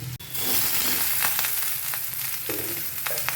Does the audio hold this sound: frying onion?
yes